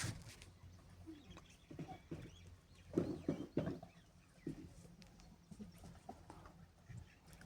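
Korean broiler Tojon chickens clucking in a quiet coop, scattered low clucks and short calls, one louder cluster in the middle, faint and fairly close, with no talk.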